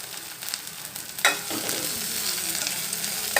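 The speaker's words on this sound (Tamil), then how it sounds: "வதக்கி விட்டுக்கலாம்." Onion, green chili and curry leaves sautéing in a pan for a cauliflower masala dosa filling, a steady close sizzle with a sharp stirring scrape partway through and continued frying crackle.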